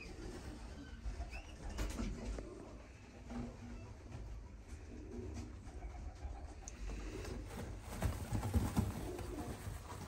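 Pigeons cooing inside a coop, soft repeated low coos from several birds layered over a constant background rumble, fairly close and moderate in level.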